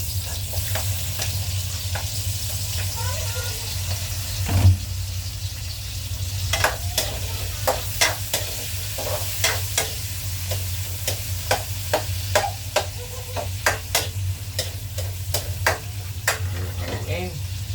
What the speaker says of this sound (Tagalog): So susunod natin igigisa ang sibuyas.